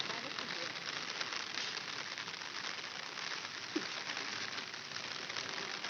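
Light drizzle falls outside on a cattle farm, heard as a steady, even hiss of rain that stays constant throughout with no distinct drops.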